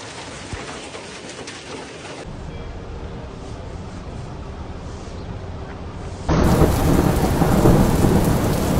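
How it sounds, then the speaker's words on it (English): Heavy rain pours steadily in Makkah and Madina during flooding storms, with a dense roar, growing noticeably louder and harsher partway through as the downpour intensifies. "heavy rains that hit the central regions of the country"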